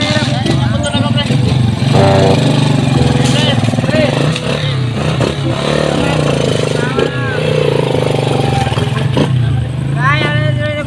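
A motorcycle engine revs and idles close by throughout, holding steady under near-constant conversational talk and a few brief background noises.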